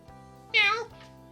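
A short cat meow in Persona 5 Royal, a single bright nasal cry lasting under half a second over steady game background hum.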